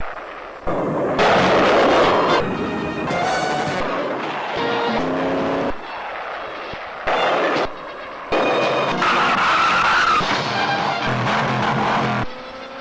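Cartoon boy who transforms into a car, Turbo Teen, zipping around on jet exhaust: loud bursts of whooshing engine and blast effects in abrupt segments, with music and no talk.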